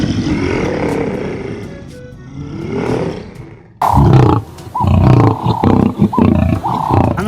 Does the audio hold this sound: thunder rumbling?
no